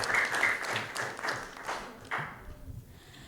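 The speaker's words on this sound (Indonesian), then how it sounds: "Kita beri tepuk tangan terlebih dahulu untuk ketiga paslon kita." An audience at a vocational high school student council candidate debate claps for the three candidate pairs, a dense wash of applause that swells and then tapers off toward the end.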